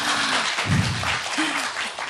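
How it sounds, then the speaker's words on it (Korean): An audience applauds two film directors, one of Frozen 2, at a Korean talk event, a steady dense wash of clapping with a voice speaking briefly over it. "감독님도 큰 박수 부탁드립니다"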